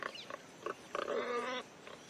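Warthogs in the African wild grunt in a short series of rough, nasal calls, one drawn-out squeal-like grunt in the middle, fairly close and clear with no voices over them.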